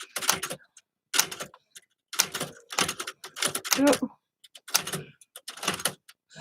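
Clattering bursts of old typewriter keys in short rhythmic runs separated by pauses, close by, with a voice briefly heard.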